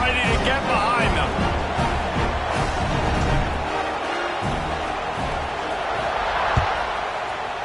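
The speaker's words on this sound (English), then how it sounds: "They're set to kick it off, and this crowd now ready to get behind them." A large stadium crowd at a UCLA college football game, a steady dense roar of voices and cheering right before kickoff, loud and continuous with some thumps and bumps rising from the mass of noise.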